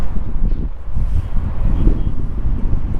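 Strong wind gusts through Astana's city centre, a loud, continuous low roar and buffeting against the microphone that surges and eases for a few seconds.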